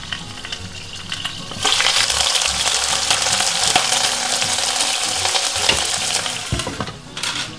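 Beef for Barolo braise browning in a hot pan, a dense continuous sizzle that swells loudly after a quieter start, with clinks and scraping of the meat being turned, close and without talk.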